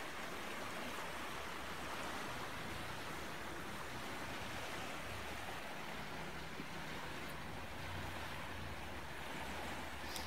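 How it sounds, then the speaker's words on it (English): Steady, broadband rushing of water from a river beside a caravan park campsite in Warburton, running continuously and evenly for the whole stretch with no voices. "By the river."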